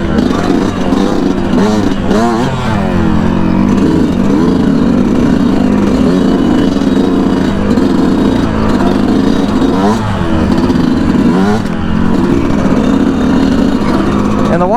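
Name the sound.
Yamaha YZ125 two-stroke dirt bike engine revving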